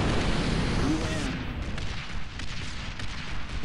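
Turret gunfire aimed at a climbing dropship in the Star Wars Republic Commando video game, a dense roar of rapid blasts and booms that stays loud throughout, heaviest at the start.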